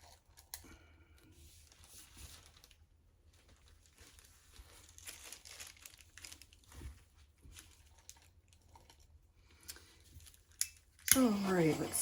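Quiet, intermittent scratchy scraping of paper catching against a surface during a fluid acrylic pour, ending in a louder crinkling burst.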